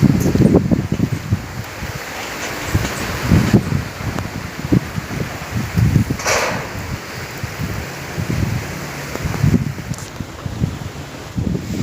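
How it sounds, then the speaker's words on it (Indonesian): Strong gusting wind buffets the microphone over rice fields in Kudus, Java, a loud blustery roar with thumping low bursts and rustling. "anginnya sangat ribut"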